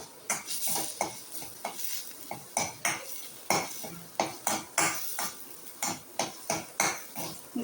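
Dried fish thokku is sautéed and stirred in a pan, with a utensil scraping and clanking against the metal in a brisk, regular rhythm of close, distinct knocks over a soft sizzle.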